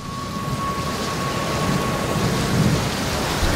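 Heavy rain pours steadily with rumbling thunder underneath, a dense continuous downpour at even loudness with no voices.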